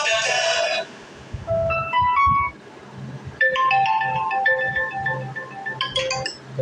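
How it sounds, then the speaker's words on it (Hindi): Ringtone previews from a Vivo T1 smartphone play in succession, bright electronic melodic tones in short bursts separated by brief pauses, clear and close with no talking. "फ़ोन रिंगटोन, इससे आप अपने फ़ोन रिंगटोन्स को चेंज कर सकते हैं।"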